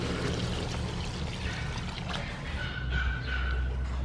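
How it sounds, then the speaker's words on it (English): Water pours steadily into a pot of beef stew seasoned with bay leaf and star anise, a continuous close splashing stream with no talking. "Add some water."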